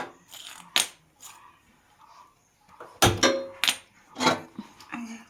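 A metal wok set down on a gas stove in a home kitchen, several sharp clanks and scrapes of metal on the burner grate, close and loud, with quiet gaps between.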